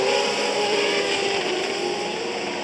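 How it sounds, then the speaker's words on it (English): Auto GP race car, red and white, at the Hungaroring in 2013, sweeping past with a steady, loud, high-pitched engine wail that stays close throughout and slowly eases off. "Kimi Sato coming through the shot in a red and white car"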